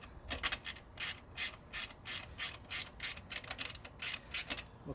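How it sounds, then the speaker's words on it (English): On a Rosso ebike X electric dirt bike, a wrench loosens the rear chain tensioners with a quick, regular run of sharp ratcheting clicks, close and fairly crisp, with no voices. "So now the next procedure is loosening the chain tensioners on both sides."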